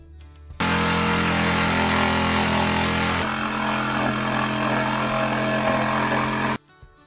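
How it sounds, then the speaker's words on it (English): A power saw cuts through a section of plywood in the landing-gear area of a fifth-wheel toy hauler, a loud steady whine with low tones that runs for about six seconds, shifts pitch partway, then stops abruptly. "I'm gonna cut a section of this plywood out here"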